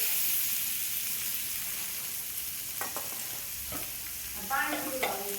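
Sago pearls are added to a hot pan and stirred, giving a steady sizzling hiss with scraping stir strokes near the end.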